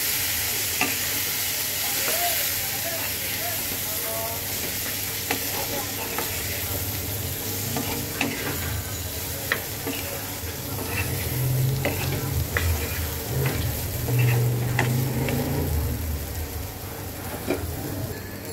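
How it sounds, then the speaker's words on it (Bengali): Spices, green chilli, turmeric, coriander powder and potato sizzle loudly in a pan for a golsha fish curry, with continuous frying hiss and repeated scraping of a spatula as the mixture is stirred. "এবার এটাকে সুন্দর করে কষাবো।"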